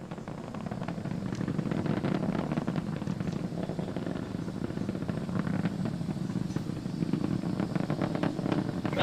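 Steady broadband roar of SpaceX Falcon 9 rocket engines during the Inspiration4 launch ascent, a continuous low rumbling blast holding constant loudness throughout with no pauses, heard as engines throttle down before maximum dynamic pressure.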